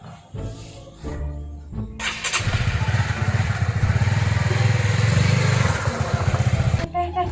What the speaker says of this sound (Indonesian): Itu ayah nu naik motor gede teh itu teh.